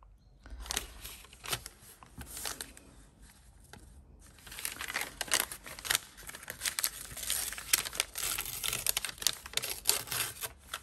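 Paper from toothpaste packaging being handled, peeled and stuck onto a diary page: close, continuous crinkling and rustling with sharp ticks and taps, louder in the second half, with no talking.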